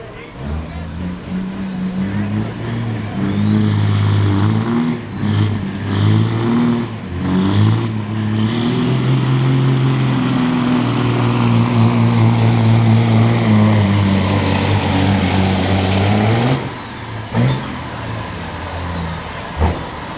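A 1998 Kenworth W900L truck pulling at a truck-pull event, its engine roaring loud and close for most of the stretch, revving in surges and then holding a strained drone before easing off, with an announcer talking over it.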